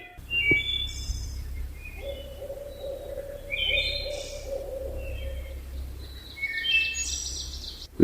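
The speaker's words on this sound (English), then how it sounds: "The barred owl calling off in the distance" A distant barred owl hoots a few times in a quiet forest at dawn in Savage River State Forest, Western Maryland, with songbirds chirping and trilling throughout over a low background rumble.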